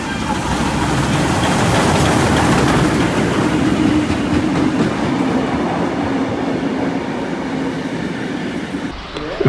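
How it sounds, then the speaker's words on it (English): A steam train passes through a station platform, a loud, close rumble with rhythmic rolling clatter that stays constant and then eases off toward the end. "but kind of like the steam train was coming through"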